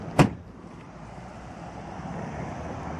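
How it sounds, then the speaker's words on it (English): A Hyundai Sonata trunk slams shut once near the start, a sharp single thud followed by steady outdoor wind and ambient noise. "Close the trunk."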